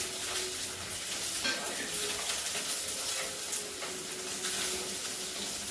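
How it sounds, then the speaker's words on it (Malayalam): Green chillies sauté in a pan with a constant close sizzle and hiss, broken by occasional spatula stirring and scraping, all with no voice over it. "അതും ജസ്റ്റ് ഒന്ന് വഴറ്റട്ടെ പച്ചമുളക് കൂടി ഇതിനുള്ള തട്ടാം കേട്ടോ"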